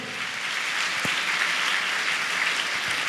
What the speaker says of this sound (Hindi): हम तालियां बजा के प्रभु को धन्यवाद दे।